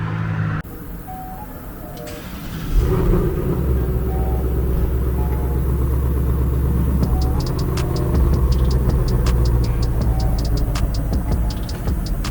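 A BMW 35i engine idles steadily, its straight-through resonator exhaust giving a low, droning rumble that swells slightly partway through, with faint clicking noises over the top.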